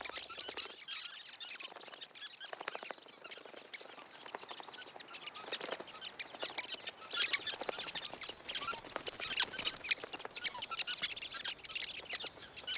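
A large colony of birds chatters around a huge shared communal nest, a dense, continuous mesh of tiny chirps and twitters rising and falling at moderate distance, with no voices.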